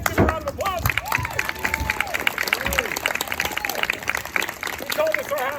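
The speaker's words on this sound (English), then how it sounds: "Give a round of applause." Applause and cheering for improv players jumping up on stage, mixed with crowd hubbub and voices calling out, a busy, moderately loud burst of clapping under chatter.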